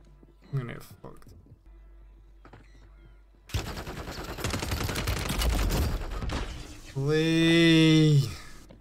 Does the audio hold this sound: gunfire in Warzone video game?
yes